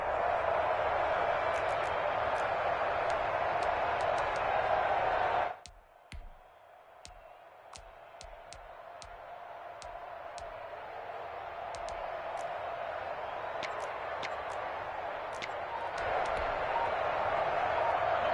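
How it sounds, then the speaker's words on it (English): A stadium crowd roars at a Vikings v. Seahawks NFC Championship football game, a loud sustained wash of noise that drops away abruptly, then swells steadily back to full volume. "the crowd getting into it as we come up on a big third down"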